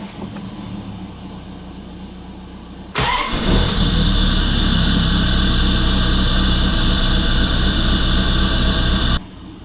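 A C4 Corvette, just repaired for a fault code, cranks briefly and fires up with a sudden loud catch, then settles into a steady, close idle that runs several seconds before cutting off abruptly.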